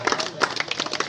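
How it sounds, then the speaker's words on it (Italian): Short burst of dense clapping from a small crowd welcoming a guest at a city presentation event, close and lively, lasting about a second. "facciamo un applauso"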